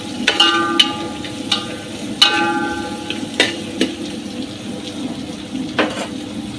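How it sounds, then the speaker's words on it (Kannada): Onion frying in a pan for Muslim-style wedding ghee rice: a steady hiss of sizzling oil with sharp, irregular clinks and scrapes of a spoon against the pan, close and fairly loud. "ಆನಿಯನ್ ಚೆನ್ನಾಗಿ ಫ್ರೈ ಆಗಿದೆ"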